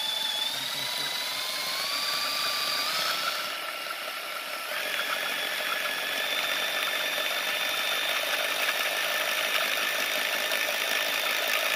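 A small wind-power generator spun by hand gives a steady high whine that rises in pitch as it speeds up, then settles into a continuous even hum at a higher pitch.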